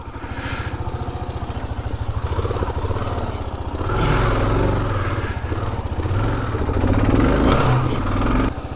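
A Kawasaki KLR650 motorcycle ridden off-road on a rough trail with bent handlebars, its single-cylinder engine thumping steadily and loudly up close, rising in revs and clattering over terrain throughout.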